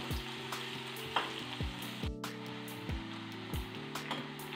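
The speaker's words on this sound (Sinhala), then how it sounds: "දැන් අපි බීරුණු ටිකක් බැදගමු." An ingredient frying in hot oil for a tomato dish, a steady close sizzle with crackling and occasional stirring clinks against the pan, with no talk.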